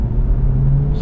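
A 2024 Corvette 2LT engine hums with a low, steady rumble as the car accelerates, heard from inside the cabin for a brief moment.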